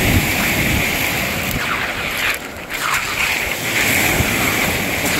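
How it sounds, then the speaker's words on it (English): Waves roll onto the rocky Lake Michigan shoreline in a loud, continuous wash with heavy wind buffeting the microphone and no talking. "Waves come in here and every so often fill this back section up with water"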